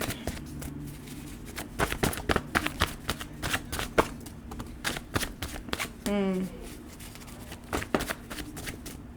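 Tarot card deck shuffled by hand, a dense run of crisp riffling clicks and flutters over about nine seconds, close up, with a brief bridging whir partway through and quiet voice underneath.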